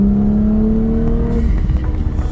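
A car fitted with 034Motorsport rear differential mount inserts drives along, its engine holding a steady, fairly loud drone that rises slightly in pitch before settling into a lower, rougher rumble with road noise. No one speaks.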